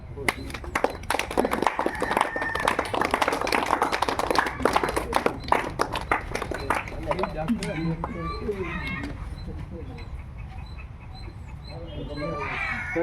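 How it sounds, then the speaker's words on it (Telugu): A crowd claps at a Constitution Day celebration in a branch library, a burst of scattered, fairly close clapping that thins out over several seconds, with voices chattering underneath. "క్లాప్స్ కొట్టండి అందరే."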